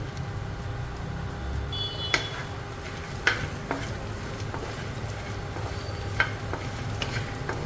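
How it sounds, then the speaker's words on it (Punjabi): Fox nuts (makhana) roasting in ghee in a wok, with a steady low sizzle and occasional sharp clinks of the stirring spoon against the pan, fairly quiet and without talk. "ਕੜਾਈ ਵਿੱਚ ਅਸੀਂ ਘਿਓ ਪਾ ਦਵਾਂਗੇ ਹੋਰ ਹੁਣ ਅਸੀਂ ਇਹਦੇ ਵਿੱਚ ਫੁੱਲ ਮਖਾਣੇ ਪਾ ਕੇ ਇਹਨਾਂ ਨੂੰ ਭੁੰਨ ਦਵਾਂਗੇ"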